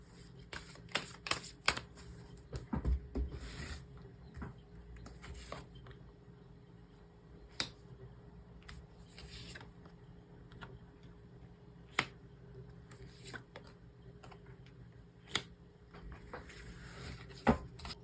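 Tarot cards shuffled and drawn in a quiet room, with soft riffling bursts early on, then sparse crisp flicks and taps as single cards are laid down, close and faint.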